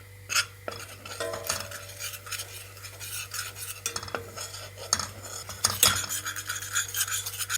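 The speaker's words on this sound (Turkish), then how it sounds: "bunu yağ ve unu kavuruyorum" Flour and oil being toasted in a pan while a spoon stirs and scrapes, giving soft irregular clinks and scraping over a low steady hum, with no voices.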